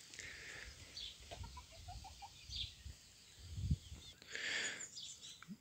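Brahma chickens cluck and call in a backyard pen with a rooster among them. Soft, scattered clucks and squawks rise and fall at moderate distance against a quiet background.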